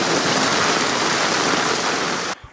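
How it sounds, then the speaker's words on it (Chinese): Heavy typhoon rain mixes with a rushing torrent of rainwater from a collapsed mountainside in the Hualien mountains of Taiwan, a loud, continuous wash of water that cuts off abruptly near the end. "崩塌的山壁夹杂着雨水，化为急流横断对外道路"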